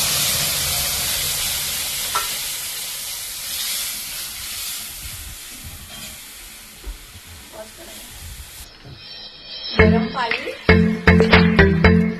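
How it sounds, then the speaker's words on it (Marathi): Spices, including kokum, sizzle and hiss as they are stirred in a hot pan for amti dal, the frying fading over several seconds before clattering utensil sounds near the end. "हे मसाले छान असे परतून घ्यायचे"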